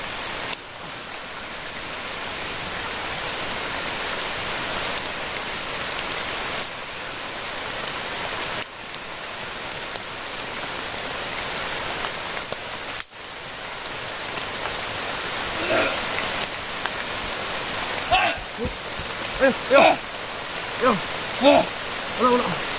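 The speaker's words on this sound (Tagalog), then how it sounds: "Hindi pa palakas ng ulan" Steady rain falling outdoors, a loud continuous hiss of drops on surfaces, with occasional knocks and louder splashes toward the end and voices faintly underneath.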